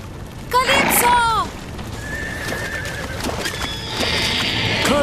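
A horse in an animated pony story gives a loud, sharp whinny early on as horses prepare to flee a fire, followed by softer clip-clop hoofbeats and faint bird chirps in the background.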